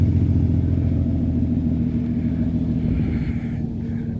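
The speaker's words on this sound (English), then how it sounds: "Mustang is outside idling." Ford Mustang with a newly fitted exhaust idling outside a shop, a deep, steady, loud rumble that holds unbroken the whole time, with no voices.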